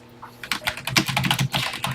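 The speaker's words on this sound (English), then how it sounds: "I'm going to type it exactly as written." Rapid typing on a Texas Instruments TI-99 home computer keyboard, with a dense run of clacking keystrokes heard close and clear and no one talking.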